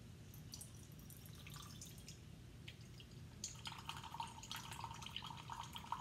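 Water drips and trickles through potting soil during a soil permeability lab test, faint close splashes that grow busier and denser toward the end, with no talking.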